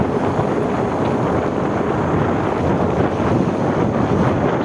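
An Ola S1 Air electric scooter is ridden under hard throttle, and steady loud wind rush buffets the microphone throughout, masking almost everything else.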